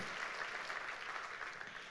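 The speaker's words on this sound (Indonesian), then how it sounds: "Beri tepuk tangan dong buat Tuhan kita Yesus Kristus." A church congregation claps during a sermon, a soft, even wash of applause heard from a distance and sustained without a break.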